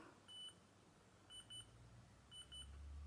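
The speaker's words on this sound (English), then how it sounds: "press and hold until you hear beeping sounds" A Polaroid Snap camera in photo booth mode beeps: three pairs of short high electronic beeps repeat at roughly one-second intervals over a low background hum, faint and evenly spaced.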